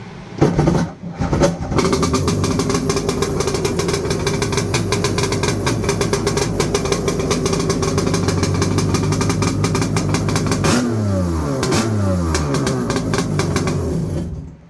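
A Revolver jet ski engine starts and runs with its hood closed, settling into a steady, loud, throbbing idle with a rhythmic knocking pulse and a short rev near the end.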